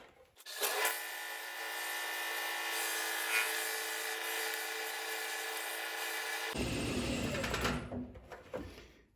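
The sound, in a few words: hand sanding sycamore salad bowl with 120 grit sandpaper on foam pad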